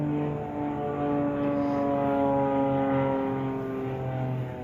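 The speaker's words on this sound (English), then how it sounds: "Thank you, airplanes." An airplane drones overhead at a tailgate, a steady low engine hum that swells slightly and holds for several seconds with no talk over it.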